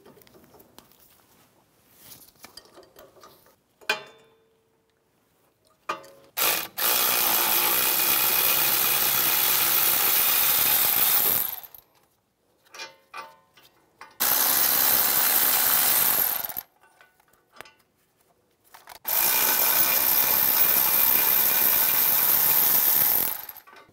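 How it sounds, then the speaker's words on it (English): Bursts of loud mechanical rattling from a power tool removing bolts from the back of a steering knuckle on a 2011-2019 Ford Explorer, separated by short quieter gaps with faint clinks and handling noises. "you want to take the bolts out on the back side of the knuckle"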